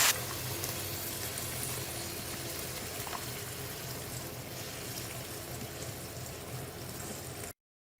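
Meat soup with boiling water simmering in a pot, a steady close bubbling hiss and low rumble that runs unbroken for about seven seconds, with no voices.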